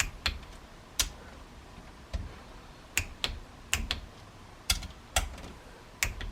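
Sharp, sparse clicks from a wrench torquing bolts on the engine of a 1969 Honda CL160 under rebuild, about a dozen crisp ticks at uneven intervals, close and quiet, with no talking.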